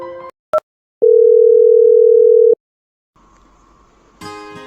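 A telephone call tone on the line: a short click, then one steady, loud tone lasting about a second and a half, followed by quiet and faint line noise with a brief burst at the end.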